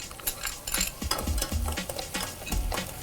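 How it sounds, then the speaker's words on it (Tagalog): Onion and then garlic sautéed in a pan for a tuna dish, with steady stirring and utensil scrapes over a soft sizzle and a few low knocks against the pan, close and unvoiced. "Igisa natin itong sibuyas. Bawang. Sunod na po ang bawang."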